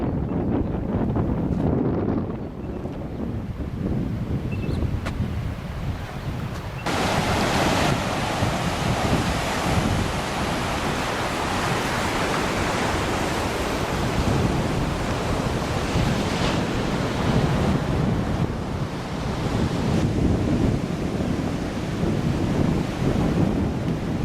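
Wind gusts and surf pound a small headland at the edge of Emily Bay on Norfolk Island, with a continuous loud roar of waves and buffeting wind noise on the microphone, no voices.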